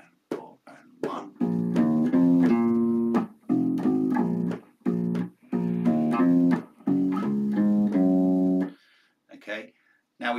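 Bass guitar plays a repeating root, fifth and ninth figure in short, steady phrases, the low notes plucked close and clear with brief pauses between bursts.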